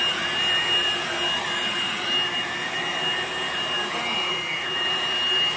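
Steady, close roar of a Hoover Blade Plus vacuum cleaner running continuously at constant pitch with a high whine on top, no pauses and no voices.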